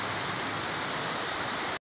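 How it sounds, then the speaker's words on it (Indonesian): Rain falls steadily over Mentawak village in the late afternoon, a dense even hiss of drops on surfaces, close and continuous, with no voices. "keadaan Desa Mentawak yang dilanda hujan"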